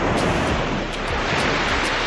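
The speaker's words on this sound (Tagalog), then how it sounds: "Ganda ng alon." Ocean surf rushes at Dahican Beach, a loud, continuous roar of breaking waves with heavy wind buffeting the microphone, the noise washing steadily without pause.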